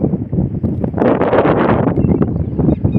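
Wind blowing hard at the seashore, gusting loudly across the microphone as a continuous rough roar over about three seconds, with no voices.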